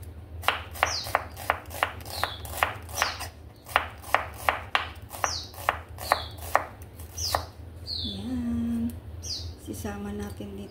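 Onion being chopped for a salad, a steady run of sharp knife-on-board chops in quick rhythm, close and clear, with birds chirping in the background and a brief whistle-like tone near the end.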